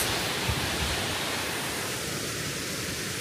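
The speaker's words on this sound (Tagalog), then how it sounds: "Ayun na yung falls" A waterfall roars as a dense, steady broadband rush of falling water, loud and unbroken throughout with no other sounds standing out.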